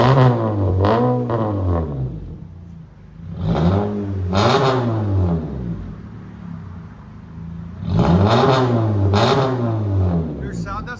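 A 2024 Honda Civic Sport with a 2.0L engine and straight pipes revs hard in three loud bursts, each pitch sweeping up and back down, with a lower idle between them.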